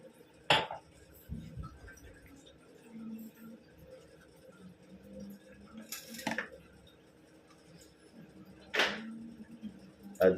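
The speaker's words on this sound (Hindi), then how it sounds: "अदरक लेकर अदरक कूटता हूँ।" Ginger pounded for tea, with three sharp, separate knocks of a pestle spaced a few seconds apart, plus faint clinks in a quiet kitchen.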